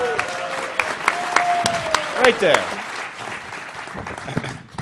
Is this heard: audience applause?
yes